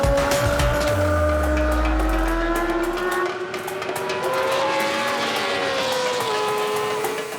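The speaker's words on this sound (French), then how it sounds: "sur la Yamaha R1. Un bolide qui dépasse les 300 km/h et développe 200 chevaux pour 200 kg." A Yamaha R1 superbike of 200 horsepower runs flat out on a race track, its engine screaming at high revs with a rising and falling pitch as it shifts, loud and continuous throughout.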